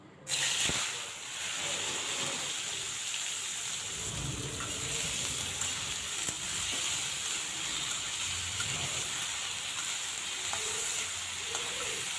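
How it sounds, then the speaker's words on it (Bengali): Sliced bitter gourd fries in hot oil in a home kitchen, giving a loud steady sizzle and hiss that starts abruptly and continues throughout, with occasional soft stirring clinks and no talking. "এখন করলাগুলো ভেজে নেব।"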